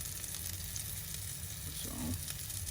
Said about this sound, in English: So let's keep cooking this chicken, and I already seasoned it